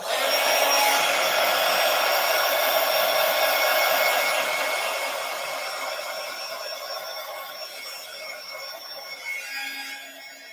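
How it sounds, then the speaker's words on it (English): A craft heat tool blows hot air over a stamped card, a steady close whirring roar that holds strong and then eases slightly as it continues, with no voices. "Now I'm just going to use my heat tool again."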